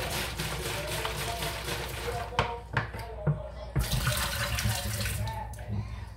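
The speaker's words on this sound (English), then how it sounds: "So we gonna rinse it out because it was just grape Kool-Aid in here." Tap water runs steadily into a plastic jug as it is rinsed of leftover grape Kool-Aid, with a few hollow knocks and sloshes partway through the rushing flow.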